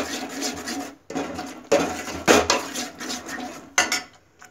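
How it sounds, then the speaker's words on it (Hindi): Ground green spice paste frying in a pan for a South Indian black pepper rasam, heard as intermittent scraping and clinking of a spoon against the pan in short bursts with sizzling underneath. "पहले हमको ये जो हरिया मसाला हम पीस के रखते हैं उसे अच्छे से फ्राई करना पड़ेगा"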